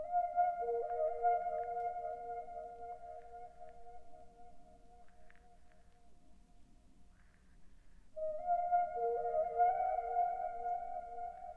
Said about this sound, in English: I used the pulsing synth from Thing's avant-garde one-shot kit.